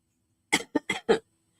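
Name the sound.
cough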